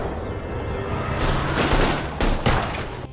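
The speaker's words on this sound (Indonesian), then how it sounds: "Setelah baku tembak yang cukup sengit, Rose tewas di tangan mereka." Gunfire fills a film shootout scene, dense bursts of shots and booms layered under a loud, chaotic action mix, with the barrage swelling toward the end.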